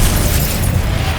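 A Confringo spell blast in Hogwarts Legacy, a loud, close fiery explosion with a dense, roaring burst that sustains briefly without pause.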